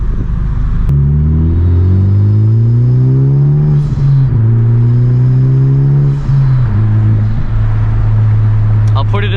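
A 2021 Honda Civic Type R in sport mode drones loudly from inside the cabin as it accelerates, its engine note climbing and shifting several times, with a voice speaking briefly over it.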